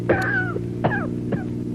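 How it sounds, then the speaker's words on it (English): Three short, harsh coughs from a 1947 radio drama, spaced apart over a steady low hum, fairly close and moderately loud. "what is the matter with this cough of mine?"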